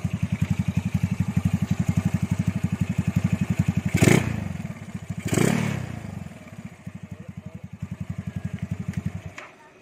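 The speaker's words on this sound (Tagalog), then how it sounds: "may tumutunog sa makina" A motorcycle engine with a fault idles with a steady rapid rattling pulse, broken by two brief louder bursts, then cuts out near the end.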